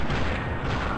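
Rapid heavy gunfire from a 50 caliber weapon in Fallout New Vegas, a dense continuous booming burst filling the whole second, loud and close.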